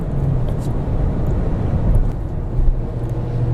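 A Mazda3 SKYACTIV-G 2.0 165 hp car engine roars steadily and loudly, with a dense low rumble and slight swells in intensity, heard from inside or close to the vehicle.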